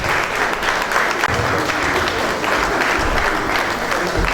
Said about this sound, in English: I am not taking that applause.